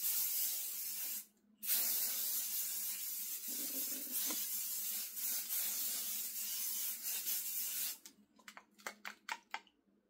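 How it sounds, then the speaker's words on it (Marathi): Krylon makeup fixer sprayed over a face base, a long steady aerosol hiss lasting several seconds with a brief pause, then a series of short separate spurts near the end, close and fairly loud. "मी एकदा हे क्रायलॉनचं मेकअप फिक्सर मारते आहे"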